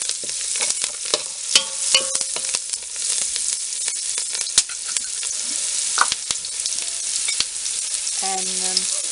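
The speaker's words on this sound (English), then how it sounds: "Then add curry leaves." Curry leaves sizzle and crackle in hot oil for a fish curry, a steady loud hiss covering the whole stretch, broken by sharp pops and spatters and a few clinks of a utensil near the end.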